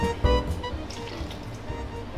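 White wine is poured into a pan while cooking pasta with mussels and cherry tomatoes, a faint steady liquid trickle with light splashing, close by and without speech.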